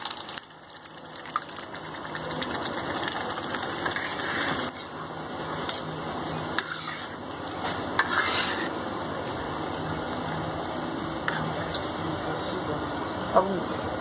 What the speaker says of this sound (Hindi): पालक मेरा भुन गया अच्छे से, अब मैं इसमें दाल डाल लूँगी जो मैंने पहले से उबाल के रखा था